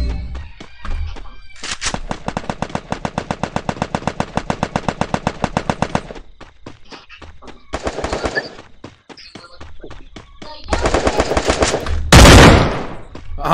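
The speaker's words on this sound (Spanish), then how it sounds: "le están disparando al colega" Gunfire in the Free Fire video game rings out loud and close, with a long, rapid, steady automatic burst followed by further bursts and a heavy blast near the end.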